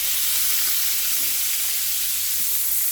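Food fries in a hot pan with a steady, bright, hissing sizzle that holds evenly throughout, close and fairly loud with no voices.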